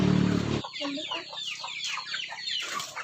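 Chickens on a poultry farm in Misamis Oriental cluck in a busy, overlapping chorus of short calls, close by, after a brief burst of louder noise at the start.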